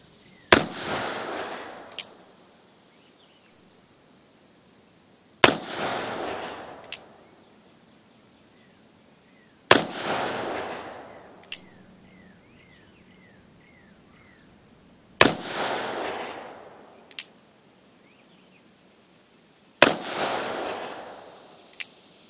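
Five loud, sharp shots from a Pietta Colt 1851 Navy black powder revolver with a 20 grain charge and big lube style bullets, spaced about five seconds apart, each ringing out into a long echo, with faint birdsong between them.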